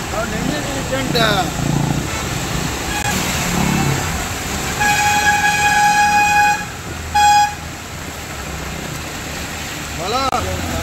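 A train passes through an area flooded by a few hours of rain in Asansol, with a low rumble, loud sustained horn toots in the middle and a brief second blast, while people talk and shout nearby.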